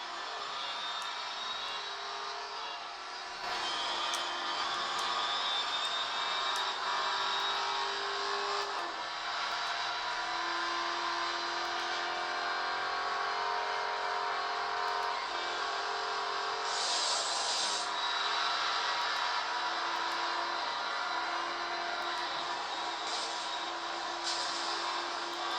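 Engine roar from the mobile racing game Real Racing 3 on a Xiaomi Mi Mix 2 phone: a continuous high whine that shifts in pitch as the cars accelerate, with brief bursts of extra noise layered on top.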